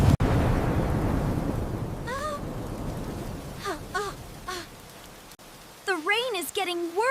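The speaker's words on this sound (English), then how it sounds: "The rain is getting worse" Animated stormy shoreline scene: a heavy, steady rain and storm rush fills the start and fades, while high, wavering voices, probably crying cartoon animals, break through in short bursts.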